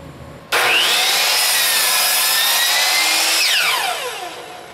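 A power saw cuts through a clamped wooden workpiece for an R2-D2 logic display surround, starting abruptly with a loud steady whine and rasp that holds for about three seconds, then winds down as the blade slows.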